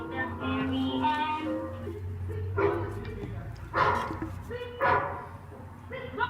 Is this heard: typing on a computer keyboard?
no